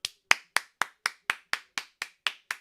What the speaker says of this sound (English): Try and clap away from the mic to not hurt anyone's ears.